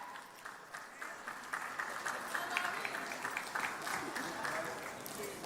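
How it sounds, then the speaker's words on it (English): A commencement audience applauds graduates with steady, dense clapping that holds at an even level throughout, a large crowd heard from within the hall. "Let's give another round of applause to our students"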